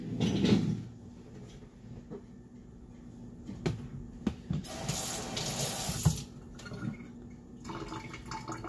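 Kitchen tap running as food is rinsed under it, a soft steady water flow with a few brief splashes and knocks, no talking.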